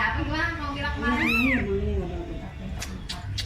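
A small mother cat that has just had four kittens gives a single rising-and-falling meow mid-clip, close by, while people chat over it.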